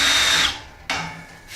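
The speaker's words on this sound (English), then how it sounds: "I like to go over it with the countersink drill bit just to deburr it." A countersink drill bit deburring a punched hole in metal: two short bursts of close, high-pitched whirring and grinding, the first fading out and the second starting abruptly after a brief gap.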